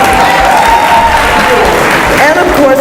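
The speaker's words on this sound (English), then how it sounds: "Give them a big round of applause." Applause for the hosts at an Election Day event, a loud, dense crowd clapping that holds steady throughout, with a voice speaking over it.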